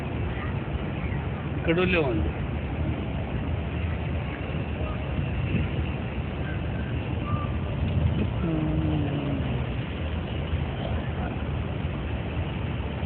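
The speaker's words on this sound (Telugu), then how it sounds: "కారు వేసుకొచ్చేటాడు చూడు" A car is driven in and backed up at a mosque, its low engine hum running steadily beneath people talking, with a short chirp of sound early on and a brief tonal whine later.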